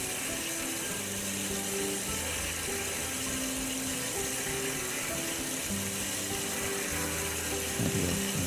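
An industrial cut-off saw with a hydraulic vise and coolant flowing, its blade finishing a cut through a metal workpiece, giving a steady, dense mechanical grinding drone with faint humming tones throughout.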